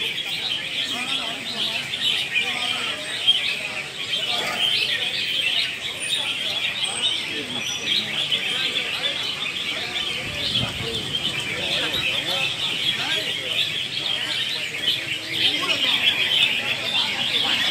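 Red-whiskered bulbuls sing at an outdoor bird contest with many caged birds on display racks, giving a dense, continuous chorus of bright chirps and trills as people talk in the background.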